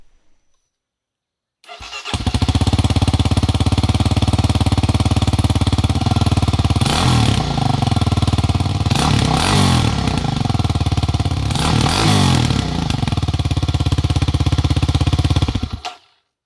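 A Kawasaki KLX300R dirt bike fitted with an aftermarket exhaust insert rumbles loudly and steadily close by, with three sharp revs rising out of the idle before it cuts off.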